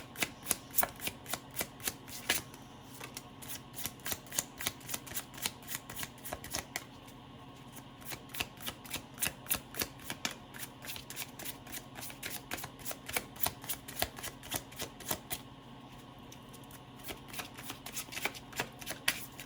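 Tarot cards are shuffled by hand in quick, crisp riffling bursts that repeat steadily for a long stretch, close and fairly quiet, with no voices.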